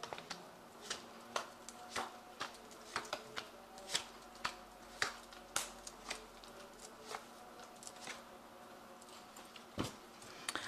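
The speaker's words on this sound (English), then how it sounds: "Now I'm going to just draw some cards from the Ramses Tarot." Ramses tarot cards are drawn and handled near the microphone, giving a quiet series of soft taps and flicks spaced irregularly across a faint room hiss.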